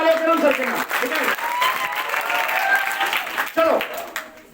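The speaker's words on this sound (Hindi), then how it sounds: "चलो वापस से जोरदार तालियां करो सर के नाम।" An audience gives a steady round of applause, a dense patter of many hands clapping at moderate loudness, with voices mixed in under it.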